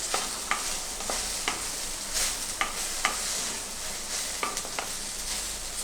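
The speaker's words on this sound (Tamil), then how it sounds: "கொஞ்சம் மீடியமாக வச்சு வதக்கணும்." Okra sautéing in a pan over medium heat for a Tamil vendakkai pachadi, a steady sizzle broken by repeated sharp scrapes of a spoon stirring, close and moderately loud, with no talking.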